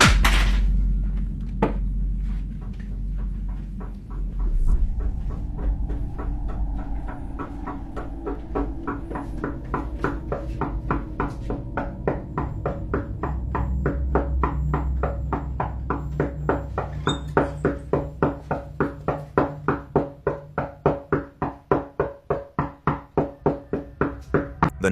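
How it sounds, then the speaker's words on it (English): Steady knocking taps from behind a tall cupboard inside a house, sparse at first and then speeding up into a regular, increasingly loud series of close thumps. "The knocking grew clearer with every step until he stood directly in front of a tall cupboard, the noise tapping steadily from behind it"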